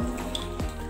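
A single clear drop of water plops inside a cave, a short hollow bloop that rings briefly against the rock over a soft background of running water.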